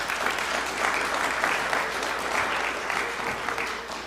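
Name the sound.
audience applause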